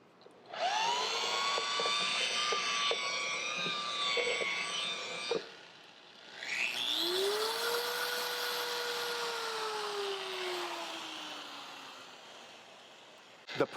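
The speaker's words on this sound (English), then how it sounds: "The pad washer, once again, rinseless wash, doing the work for us." A pad washer spins a rotary polisher pad in rinseless wash, a loud steady whirring drone that winds down, pauses briefly, then spins up again with a rising and falling pitch, no talk.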